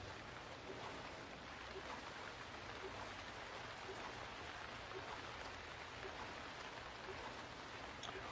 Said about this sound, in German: Weil der Regensound geschützt ist.